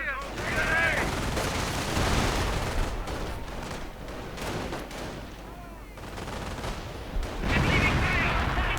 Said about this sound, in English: Riflemen coming under heavy fire.